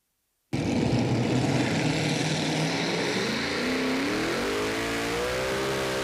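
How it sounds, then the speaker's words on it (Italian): Tractor pulling competition engines roar at an Italian championship round in Treviso, a loud sustained blast that starts abruptly, then holds a steady heavy drone with rising pitch as revs climb. "la prima tappa trevigiana del campionato italiano di tractor pulling, ovvero di tiro del trattore"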